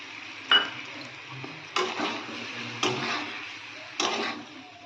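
A utensil stirs fried spices and turmeric in a pan, four separate scraping strokes spaced about a second apart, close and moderately loud against a quiet background, with no talk.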